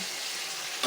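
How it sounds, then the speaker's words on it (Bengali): Pointed gourd and potatoes frying in fish-frying oil, a dense continuous hiss of frying that closes on a brief louder scrape of stirring. "2-3 মিনিট পরে আমরা পটল এবং আলুগুলো নাড়াচাড়া করে আবার"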